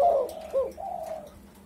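Pet doves in a cage, from a home flock of emerald, spotted and Eurasian collared doves, give soft, close cooing calls, a low rolling coo followed by a second, longer one, alone in the quiet.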